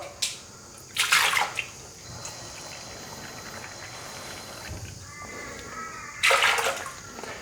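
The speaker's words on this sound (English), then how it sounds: "I always put the water in first" Water splashes and pours into a blender in two short bursts, one near the start and one near the end, with a low steady hum between them.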